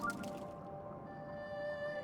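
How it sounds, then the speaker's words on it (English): A dragon in Zelda: Breath of the Wild gives a faint, sustained tonal hum with shimmering high chimes, steady and distant beneath a quiet wet squishing backdrop. "That's dragon sound."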